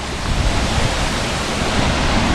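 A waterfall pours down strongly at its starting point, a dense, loud, continuous roar of rushing water with no pauses.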